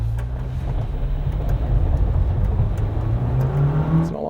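A GWM Tank 500 plug-in hybrid climbs an off-road slope under steady throttle, its engine droning loud and close with a low, rising pitch through the whole stretch.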